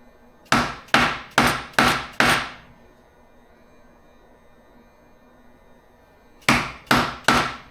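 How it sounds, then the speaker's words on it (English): A wood chisel is driven straight down into cedar in sharp, woody strikes: five quick evenly spaced knocks, a pause of near silence, then three more close-up blows. "take a wood chisel and starting at my mark, I'm going to plunge straight down"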